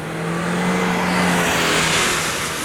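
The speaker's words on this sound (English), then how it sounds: "It definitely gives you enough acceleration there." A 2016 Mercedes-Benz GLC300 turbocharged SUV accelerates with a loud, sustained engine and road roar heard close, steady and dense with no voices.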